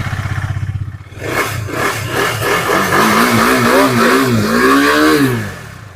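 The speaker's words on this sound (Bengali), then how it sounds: "ডিউক টু ফিফটি দাদা আমাদের বন্ধুদের আওয়াজটা শোনালে খুব ভালো লাগতো" A 2019 KTM Duke 250 motorcycle with dual-channel ABS revs up close by, a loud idle chug rising into sweeping throttle blips that climb and fall before settling.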